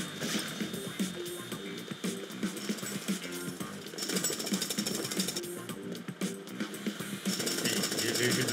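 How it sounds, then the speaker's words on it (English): Rapid mechanical jackhammer pounding in the video game Lego City Undercover, a steady rattling hammer running continuously and fairly loud with game music and effects layered beneath. "Not every day I get to just play around with a jackhammer."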